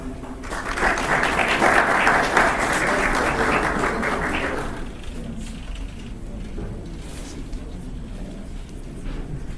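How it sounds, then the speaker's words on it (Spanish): Audience applause breaks out at a formal talk on ethical hacking, a dense burst of clapping that swells for a few seconds and then fades into quiet room noise. "Recibamos con un fuerte aplauso al ingeniero Franklin Álvarez."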